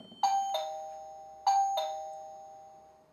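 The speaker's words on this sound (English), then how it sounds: "you'll be able to change the tones of your chime" A MECO smart home doorbell chime rings twice, each ring a bright two-note ding-dong close by with a ringing decay, played alone in a quiet room.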